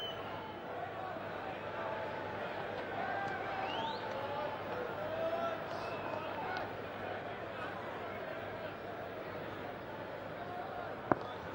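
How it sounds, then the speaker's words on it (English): A large cricket stadium crowd chants for an England victory during a close Pakistan vs England one-day match, a continuous broad roar of massed voices from a distance, with one sharp crack near the end. "Extremely good crowd here now, chanting for England victory"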